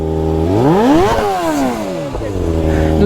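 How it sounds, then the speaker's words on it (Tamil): A motorcycle engine revs on a ride from Puga village to Nyoma in Ladakh, its pitch climbing to a peak and then sliding back down, loud and close, before settling into a steady idle. "ஐயோ வண்டி சவுண்டு."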